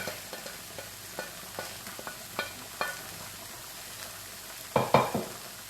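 Kale is stir-fried in a pan with gluten-free noodles: soft sizzling lies underneath as sharp clinks and scrapes of a utensil tap at irregular intervals, with a louder cluster of stirring near the end.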